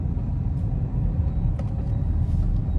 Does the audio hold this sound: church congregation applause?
no